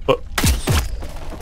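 Two punchy gunshots in Paint the Town Red ring out in quick succession with booming low thumps, preceded by a brief shorter sound, loud and close.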